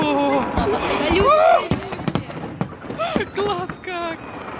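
Several sharp fireworks salute bangs pop through excited, loud voices of people talking and exclaiming nearby, the explosions brief and partly masked by speech.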